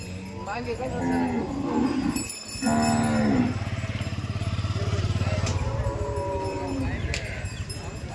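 Gir cows moo repeatedly at a busy cattle market in Dhule. The deep, drawn-out calls are loud and close, over steady crowd murmur and a passing motorcycle.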